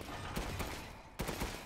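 Cannon blasts from the Resident Evil Village Heisenberg boss fight, a few sharp booming shots spaced apart, with one heavy hit near the end over a constant dense backdrop of game noise.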